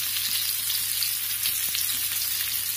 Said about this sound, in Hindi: प्याज को अच्छी तरह से हमने सौटे कर लेना है